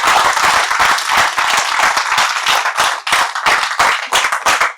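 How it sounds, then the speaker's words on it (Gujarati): An audience at a Gujarati literary festival claps loudly in sustained, dense applause for two speakers, many hands close and continuous for several seconds before tapering slightly. "ખૂબ તાળીથી બંને વક્તાઓનું અભિવાદન કરીએ"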